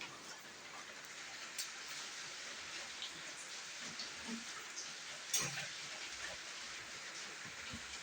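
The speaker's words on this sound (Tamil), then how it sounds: "மழை நின்றுதான் நான் விளக்கு வந்து வைக்கணும்டா" Rain falls steadily outdoors as a soft, even hiss, fairly faint and distant, with one brief sharper knock partway through.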